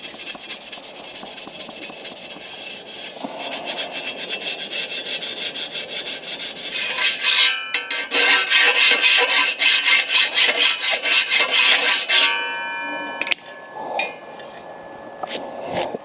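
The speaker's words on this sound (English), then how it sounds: "Clean up all the fucking Sharpie and old grime that was on here." Scrubbing Sharpie marks and old grime off a Lexus ISF part during a supercharger build, a steady rough rubbing that grows louder and more vigorous in the middle, then breaks into scattered scrapes and taps, heard up close with no talk.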